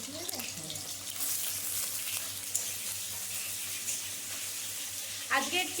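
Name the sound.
potatoes frying in pan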